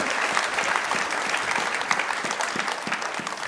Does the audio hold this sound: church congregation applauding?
yes